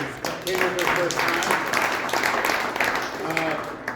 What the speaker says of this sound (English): round of applause for everyone who came here for the first